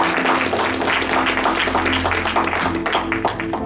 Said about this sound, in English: Let's give Dr. Blount a round of applause.